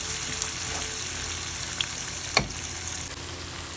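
Onions with turmeric and curry leaves frying in oil over a high flame, a steady close sizzle with a few sharp crackles and spits, no voices.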